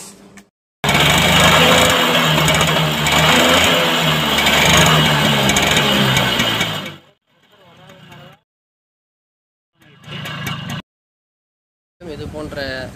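A TVS XL moped's engine, just fitted with a repaired silencer, fires up and runs with a loud buzzing rattle for several seconds, then cuts out. Brief further bursts follow between silent gaps, and a voice talks near the end.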